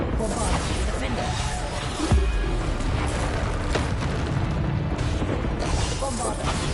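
Bombarda explosion spells going off repeatedly in the Hogwarts Legacy video game, dense booming blasts over constant game music and combat noise, with a voice talking through it.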